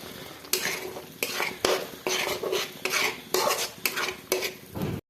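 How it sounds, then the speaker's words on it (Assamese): Salt, turmeric, cumin and coriander powder fry in a pan for egg curry, with a utensil scraping and stirring in about nine rhythmic, close strokes over a constant sizzle. "এইখিনি এতিয়া ধুনীয়াকৈ ভাজি ল'ম"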